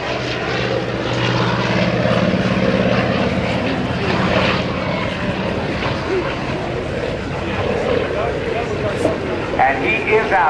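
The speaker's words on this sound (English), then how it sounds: "join me in a round of applause for Dan McCue flying the Collings Foundation F4U Corsair." Collings Foundation F4U Corsair propeller fighter flying at the 2010 NAS Oceana airshow, a steady droning engine roar that fades as it passes, with an announcer talking over it.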